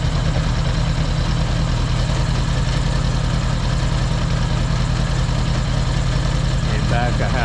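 A 1975 Honda Goldwing engine idles steadily and loud, its even low pulsing beginning to falter and stumble as the carburetors are adjusted out of synchronization.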